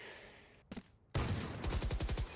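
Gunfire during an esports tournament video game match: a couple of sharp shots, then a loud rapid burst of automatic fire crackling in quick, evenly spaced bangs.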